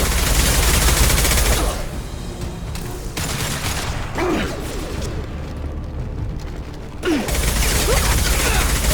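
Automatic weapon fire in the sci-fi shooter Mass Effect 2 comes in loud, rapid bursts with a brief lull in the middle, set against a dense battle-noise bed with occasional faint voices.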